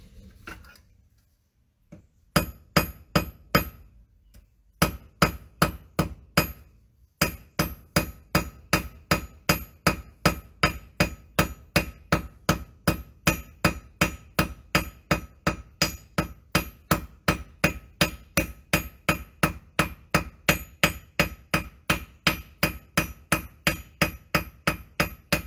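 Hammer blows ring on metal against an anvil while shaping a wine glass holder, starting with a few scattered strikes and then settling into a long, steady, fast series of loud, close, bright clangs with no talk.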